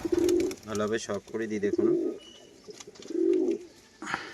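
A pair of Fulshira Madras pigeons coo in low, rolling bursts, close by and fairly loud, with someone talking over and between the calls.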